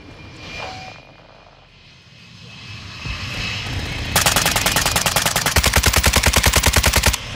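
In Call of Duty MWII multiplayer, a hostile VTOL aircraft engine roars in, followed by a long loud burst of rapid machine-gun fire over the aircraft drone, close and intense.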